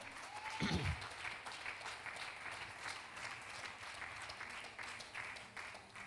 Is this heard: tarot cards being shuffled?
no